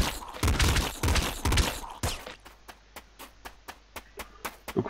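Machine gun fire in the video game Nuclear Throne: a dense, loud burst of rapid automatic shots, followed by a quieter string of evenly spaced sharp cracks.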